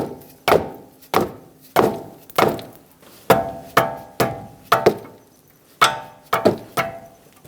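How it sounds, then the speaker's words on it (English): A rubber mallet strikes a 22mm wrench on the tie rod of a 2013-2020 Nissan Pathfinder, about a dozen sharp, close metallic knocks at an uneven, roughly steady pace. "Take a rubber mallet, tap your wrench."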